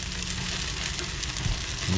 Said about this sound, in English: every time I do it, all you hear is sizzling